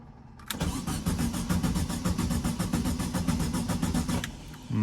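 A Volkswagen Beetle with a freshly installed wiring harness and no spark cranks steadily for about four seconds in a shop. The starter churns in an even, rapid rhythm, and the engine never catches.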